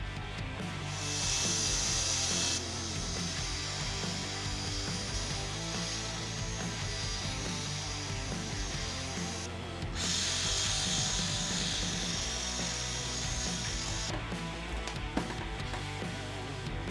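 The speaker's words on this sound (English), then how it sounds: "now I'm just cutting out the slots so I can stick the stainless rod in there nice and tight" Slots being cut into a custom sissy bar for a Harley-Davidson Sportster to take a stainless rod, a loud, close power-tool whine with steady grinding texture and a few surges in pitch.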